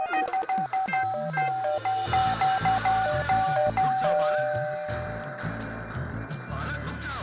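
A ding-dong doorbell chimes again and again in quick succession inside a home, its bright tones repeating over a busy, noisy room.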